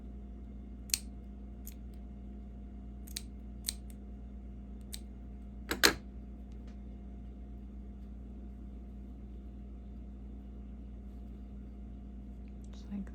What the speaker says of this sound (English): Okay, I'm going to cut my yarn.